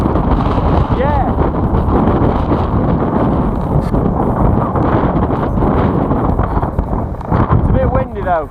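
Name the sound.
wind blowing on microphone outdoors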